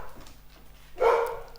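Pet dogs give a single close bark or yip, loud and short, over a quiet indoor background.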